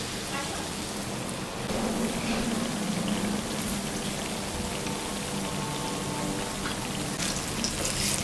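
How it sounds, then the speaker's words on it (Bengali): Palm and coconut fritters fry in hot oil, a dense continuous crackle and sizzle like rain on a surface, fairly quiet and steady throughout with faint background murmur. "এখন আমি বড়াটা ভাজবো।"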